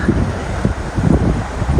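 Gusty wind buffets the microphone with a steady low roar and rumbling bursts, no other clear sounds.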